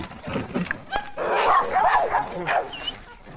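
A pit bull yips and whimpers excitedly in short bursts at close range, with some rhythmic thumping beneath from a treadmill, as if straining while running.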